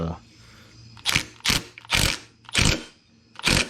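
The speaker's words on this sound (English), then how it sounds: "the torque wrench clicked a couple of times" A torque wrench clicks as a bolt is tightened on a gas-powered Razor dune buggy, five sharp mechanical clicks spaced about half a second apart, close and loud over a quiet background.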